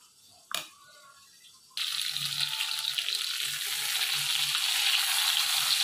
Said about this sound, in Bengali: যেই কড়ার মধ্যে আমি ইলিশ মাছটা ভেজেছিলাম তাতেই আমি এবারে বেগুনগুলো ভেজে নেব